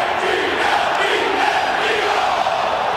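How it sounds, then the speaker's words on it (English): A hostile Philadelphia Eagles home crowd roars at a football stadium against the Tampa Bay Buccaneers, a dense, sustained wall of shouting and jeering from thousands of fans that stays loud throughout. "Hostile crowd."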